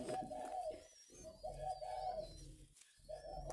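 Pigeons cooing in soft repeated phrases with short pauses between, faint chirps overhead and a low background hum.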